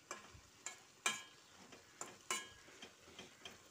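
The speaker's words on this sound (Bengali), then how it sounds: "এবার আরও একটু নাড়াচাড়া দিয়ে নিচ্ছি" Drumstick and potato curry stirred in a pan, giving a faint sequence of soft scraping strokes at an uneven rhythm, with gentle sizzling between them and no voices.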